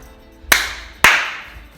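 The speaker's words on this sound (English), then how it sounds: "And then a clap." Two sharp, loud hand claps about half a second apart, each ringing briefly in a room, recorded at the Nottinghamshire Archives.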